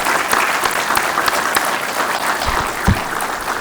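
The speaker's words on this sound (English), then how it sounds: "So let's give them a round of applause." Audience applause fills a ceremony hall, a dense, steady wash of many hands clapping at once, sustained throughout with no speech over it.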